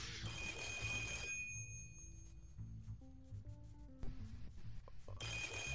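A telephone bell rings in a creepy Minecraft horror map, a loud, steady trilling ring at the start and again at the end, with eerie sustained tones drifting between the rings.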